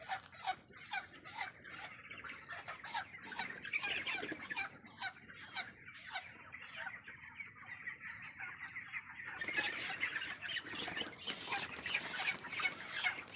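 Chickens in a poultry farm flock cluck and squawk near and far while being caught for weighing, a busy uneven chorus that grows louder and more agitated toward the end, with no voices heard.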